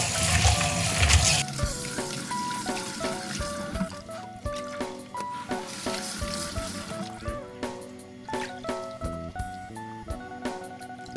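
Preserved sweet radish is stir-fried in oil in a pan, with a bright sizzle at first and then lighter crackling and regular stirring scrapes under steady background music.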